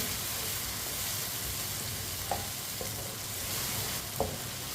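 Potato pieces fry in a pan with a soft, continuous sizzle, broken by a few light clinks of a spoon stirring them; faint and close, with no talking.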